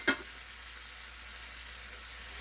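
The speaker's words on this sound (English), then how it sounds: "And we're going to put in some minced garlic." Minced garlic dropped into a hot pan, a brief hiss at the start and then a steady, close frying sizzle throughout.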